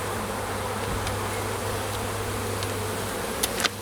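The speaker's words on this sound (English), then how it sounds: "looks like there's a lot of bees up here" Honey bees buzzing steadily during a March hive inspection, a dense, close, continuous drone with a few sharp clicks near the end and no talk.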